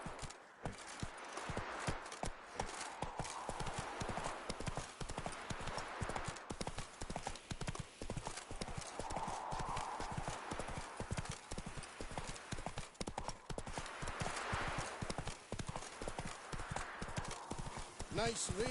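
Roach, a horse in a PS4 video game, clip-clops in a continuous brisk rhythm of hoofbeats, with voices speaking over the steady hooves throughout.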